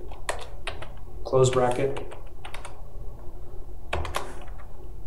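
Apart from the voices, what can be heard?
typing on a computer keyboard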